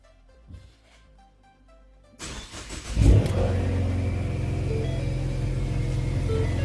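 A Ford Mustang EcoBoost engine cranks and fires, then settles into a loud, steady idle with a low rumble, heard close up after a quiet stretch.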